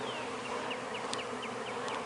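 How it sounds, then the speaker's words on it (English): A swarm of honey bees buzzes outdoors near a hive entrance, a steady, dense drone with individual bees whizzing past close by, no speech. "the sky is just buzzing with bees. You can just hear them going."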